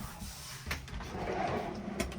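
A soft-close storage drawer in a restored 1971 Serro Scotty camper is opened, giving a close, dull thump followed by a smooth, muted sliding rumble and a faint click near the end.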